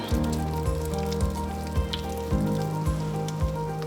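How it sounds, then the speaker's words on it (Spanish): Tuna croquettes fry slowly in hot oil with a steady, close sizzle, and soft thumps recur every half second or so beneath it. "Yo voy haciendo 3 ahora, que se fría."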